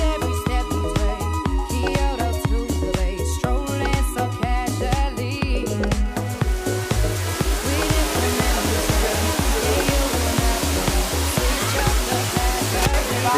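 Waterfall rushing as a steady broadband roar at a travel spot, partly masked by loud rhythmic music with a steady beat throughout.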